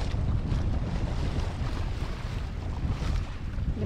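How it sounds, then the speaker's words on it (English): Wind gusts steadily past a sailboat running under its jib with the engine off, a constant broadband rush with faint water wash beneath it and no voices. "I'm gonna make the best of the wind that we have,"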